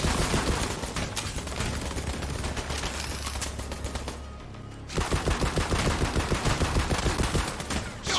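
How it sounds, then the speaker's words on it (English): Sustained rapid-fire laser gun shots from the video game Borderlands 3, loud and continuous. A brief pause breaks the stream midway, then another fast rhythmic volley follows. "This is a laser gun here."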